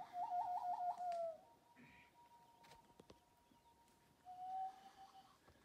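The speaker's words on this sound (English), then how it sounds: "We got real loons as well as fake loons. Calling each other." Common loons call across a lake in the Algonquin backcountry: a wavering tremolo followed by long drawn wails, faint and distant over quiet ambience.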